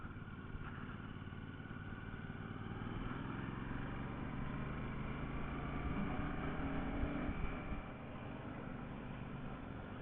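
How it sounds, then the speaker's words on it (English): A Royal Enfield Classic 650 motorcycle cruises at a steady 40 mph in fourth gear on a 40-limit road, giving a continuous, even engine drone that holds at one level throughout with no talking. "the bike's just bimbling along, 40 mile an hour, 4th gear"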